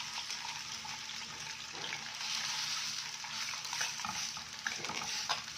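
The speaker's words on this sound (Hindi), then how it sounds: "अब जो दूसरी जो मछली है इसको फ्राई कर लेते हैं" Fish frying in a grill pan, giving a soft, continuous sizzle with faint crackles at a moderate distance.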